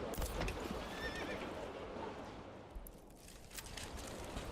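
A horse arrives in the medieval city-building video game Manor Lords, whinnying loudly up close amid clip-clopping hooves and busy background noise.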